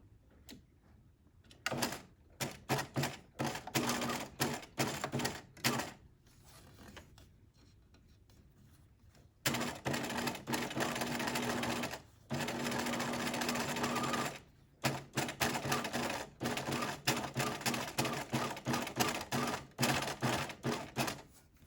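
A sewing machine runs in several bursts of rapid, close stitching, stitching along the seam allowance of a one-piece welt pocket, with short pauses and clicks between runs and a steady longer stretch in the middle.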